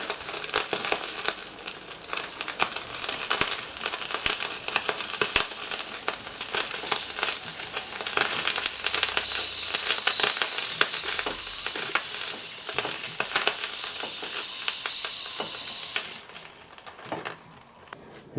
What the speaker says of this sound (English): There's some nice sizzling noises.